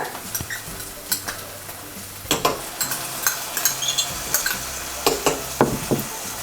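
Ginger garlic paste frying with softened onions for a Kuttanadan egg curry, a close sizzle punctuated by frequent rhythmic spoon knocks and scrapes against the pan.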